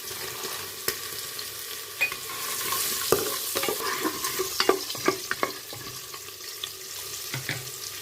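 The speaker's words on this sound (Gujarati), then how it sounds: "હવે તેમાં મગફળીના બી નાખીશું" Peanuts frying in a pan for vegetable khichdi, a soft continuous sizzle broken by repeated scraping clicks of a spoon stirring against the pan, close and fairly quiet, with no talk.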